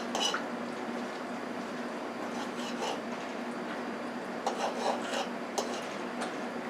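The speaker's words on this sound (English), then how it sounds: "So I'm adding water." Water being added to pork chops and flour in a pan for gravy, a soft close-up rasping, squishing and dripping of liquid over sizzling, fairly faint throughout.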